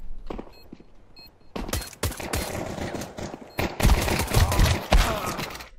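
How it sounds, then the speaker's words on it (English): USP pistol gunshots in Counter-Strike 2, a string of sharp, loud cracks fired in irregular bursts alongside other gunfire, with faint footsteps between shots and no talk. "this is the first time I shot with the USP in this game"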